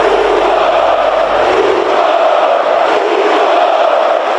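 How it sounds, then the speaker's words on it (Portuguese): Flamengo supporters at the Maracanã stadium jeer and chant at the opposing Corinthians goalkeeper, a huge, loud, continuous crowd roar that fills the stadium without letup. "a torcida do Flamengo já estava provocando muito o goleiro por causa da falha"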